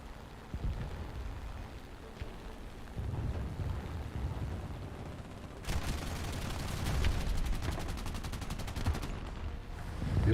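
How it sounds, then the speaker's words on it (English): Enemy gunfire aimed at the player's M41 tank in War Thunder, bursts of shots and a rapid machine-gun rattle over a rumbling engine and battle ambience, moderately loud, with no talk. "He's trying to shoot me."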